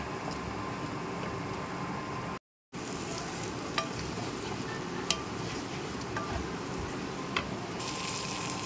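Spice paste for a rohu fish curry frying on low heat in a pan, with a steady close hiss and soft crackle running throughout, broken by one brief gap and a few faint clicks.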